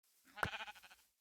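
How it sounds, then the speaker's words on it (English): A single sheep in the Minecraft video game lets out one wavering, tremulous bleat that pulses several times before fading, alone and fairly quiet. "we got some sheep going on over here"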